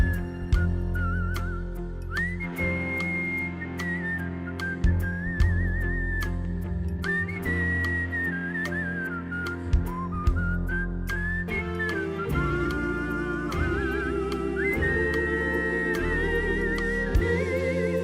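A melodic whistled tune rides over a full band with drums and bass, the whistle sliding between notes throughout, loud and up front.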